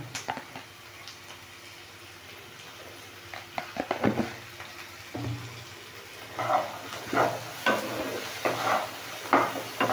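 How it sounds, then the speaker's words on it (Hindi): Peas frying in a pan, with soft sizzling and scraping stirs that come in uneven bursts, growing busier and louder toward the end, close by with little else around. "मटर डालने के बाद थोड़ा भूनेंगे उसको"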